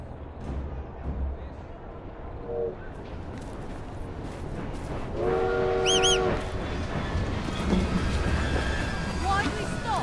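Steam-era train in the Assassin's Creed Syndicate video game, with a rumbling rail bed, a whistle-like tonal blast partway through, and in-game voices talking over the moving train.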